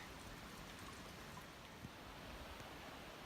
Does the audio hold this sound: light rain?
yes